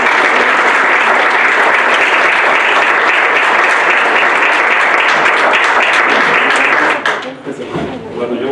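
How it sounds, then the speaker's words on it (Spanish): Loud, sustained audience applause fills a lecture hall for a doctor introduced before a talk on informational culture and knowledge management, steady dense clapping that thins and drops off near the end. "Le brindamos un fuerte aplauso,"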